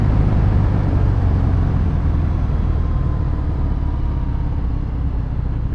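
2018 Harley-Davidson Fat Bob with a Screamin' Eagle exhaust accelerating, a dense, loud, continuous engine roar recorded close, steady without pauses or voices.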